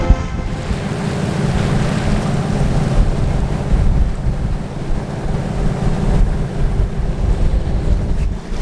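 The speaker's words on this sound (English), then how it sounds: "A gentle breeze, we're motor sailing, but the sea's nice and flat." Sailboat motor sailing across a flat sea in the Chenal du Four in a gentle breeze: steady low engine drone mixed with wind buffeting the microphone and soft wash of water, no talking.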